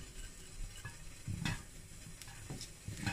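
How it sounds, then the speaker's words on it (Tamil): Mustard seeds and cumin sizzle and crackle in hot oil for a South Indian sambar tempering, faint close-up popping and spattering with occasional stirring taps, no voices. "கடுகு போட போகிறேன், லைட்டாக ஜீரகம், கொஞ்சமாக ஜீரகம் போட்டால் போதும்."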